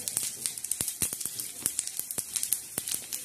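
Whole spices crackle in hot oil over a low flame, a rapid, irregular run of sharp pops and spits close by, with no voices.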